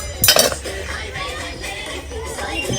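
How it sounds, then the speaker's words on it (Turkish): A sharp metallic clatter of a steel frying pot being picked up in a discount store, followed by softer clinks and handling noise in a busy space. "Çelik kızartma tenceresi."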